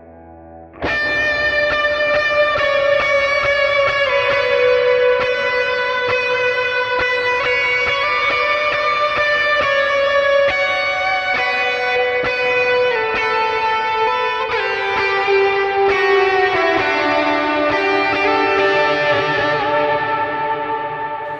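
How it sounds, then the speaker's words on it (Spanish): Electric guitar played through a Nux MG300 with Tube Screamer overdrive and ambient reverb: sustained distorted chords ring out in a slowly descending progression, washed in long echoing tails, loud and continuous for about twenty seconds. "Yo les recomiendo el Tube Screamer,"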